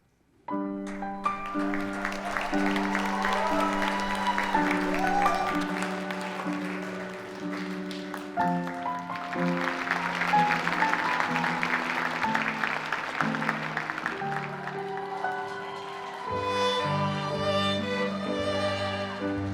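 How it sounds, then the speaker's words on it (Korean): Applause from wedding guests welcoming the bride as she enters the ceremony, a steady wash of clapping beneath loud, sustained music that plays throughout. "자 여러분 뜨거운 박수로 우리 신부를 환영해 주시기 바랍니다."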